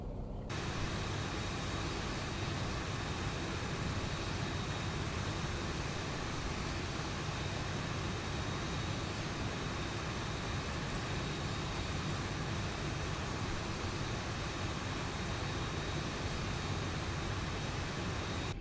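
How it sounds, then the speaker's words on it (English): Boeing 737-800 jet engines in the X-Plane 11 flight simulator, both running, produce a steady, loud, continuous roar with a constant high whine, unchanging throughout with no talk. "So now we have both engines turned on."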